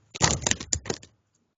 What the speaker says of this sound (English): One final shuffle.